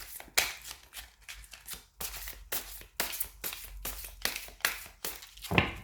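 Oracle cards being shuffled by hand in a series of quick riffling bursts, each a soft papery flutter separated by brief pauses, close and fairly quiet with no talking.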